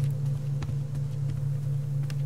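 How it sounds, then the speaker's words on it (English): Storm noise in the survival game Subsistence: a steady, loud low rumbling drone with a constant hum and faint intermittent gusty crackles, no talking. "The storm is super noisy."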